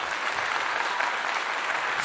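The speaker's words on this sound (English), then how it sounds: "Give him a clap." An audience claps in steady, dense applause that stays fairly quiet and even throughout the short stretch, with no voices standing out.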